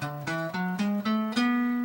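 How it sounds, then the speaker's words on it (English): B Dorian mode played as a short instructional demonstration, six clear sustained notes climbing stepwise in an even rhythm, each ringing straight into the next, with no speech. "B Dorian mode, which sounds like this"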